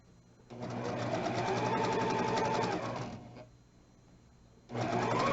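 A sewing machine stitches in a steady, rapid mechanical whir that runs for about two and a half seconds, stops briefly, then starts up again, close and clear with no talking.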